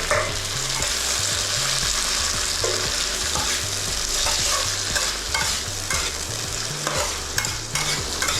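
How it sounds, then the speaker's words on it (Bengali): Tomato hits a hot kadai and fries with a loud, continuous sizzle and crackle, broken by repeated stirring scrapes, close and unbroken by speech. "টমেটোটা দিয়ে দিলাম"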